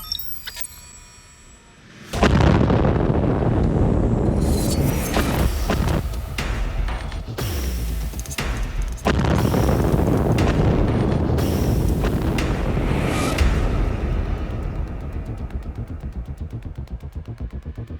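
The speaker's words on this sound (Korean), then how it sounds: "전기 제어반에서 전기적 접촉이 일어날 때 수소가스를 만나게 되면 무서운 폭발로 이어질 수 있는 것이다" A hydrogen gas explosion set off by an electrical contact in an electrical control panel, bursting after a quiet start into a sustained loud roaring blast with repeated cracks and booms that slowly fade.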